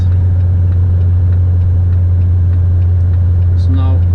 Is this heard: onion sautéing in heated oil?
no